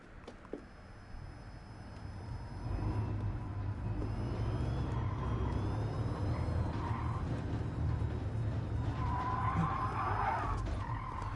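A car engine drones steadily while tires squeal and skid in the racing video game GT Sport, played in VR, growing louder after a few seconds and continuing throughout.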